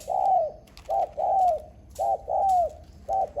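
A small-voiced decoy dove coos in repeated short phrases, each pair a brief note then a longer falling coo, close and clear with no talking.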